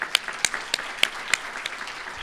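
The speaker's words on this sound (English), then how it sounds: "Give yourselves a round of applause." A packed room at a STEM awards gala claps softly and somewhat distantly. A handful of sharper individual claps stand out against a low, steady patter of applause.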